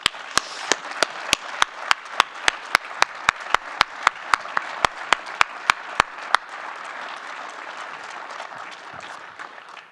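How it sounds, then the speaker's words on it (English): An audience applauds at a BYU basketball coach's retirement announcement: steady, dense clapping from a crowd with a few sharp, loud claps standing out, gradually fading toward the end. "Let's give my family a round of applause."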